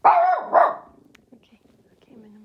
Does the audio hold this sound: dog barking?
yes